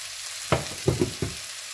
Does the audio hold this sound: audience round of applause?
no